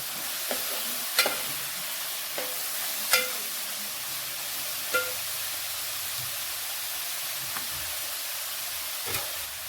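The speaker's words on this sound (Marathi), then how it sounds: "कांदा चांगला तेलात परतून घ्यायचा" Onion being stir-fried in oil with curry leaves and green chili pieces for a prawn masala, a soft, quiet sizzle broken by a handful of scattered clicks and scrapes from a spatula.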